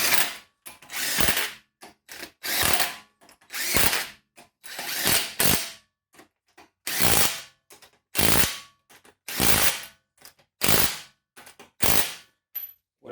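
A power tool snugs the wheel bolts on a Jeep Cherokee Trailhawk in about ten short, loud ratcheting bursts, each separated by brief pauses.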